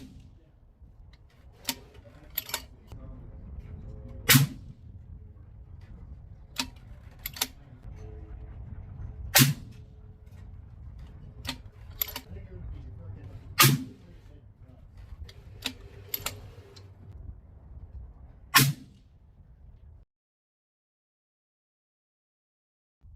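Suppressed .25 Creedmoor rifle fired repeatedly: about eight sharp, muffled reports spaced a few seconds apart, each a brief crack over steady outdoor background noise, then silence.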